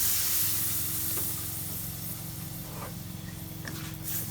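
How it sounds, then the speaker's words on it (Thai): Whipped cream hits a hot pan for spaghetti carbonara, with a bay leaf already in, and breaks into a steady close sizzle and bubbling hiss that eases slightly then flares again. "เราใส่วิปครีมลงไปครับ"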